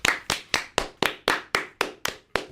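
Studio audience clapping in unison on a comedy talk show, about ten sharp, evenly spaced claps in a steady rhythm, close and crisp with no talking.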